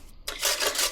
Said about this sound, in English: So I'm grating the potato.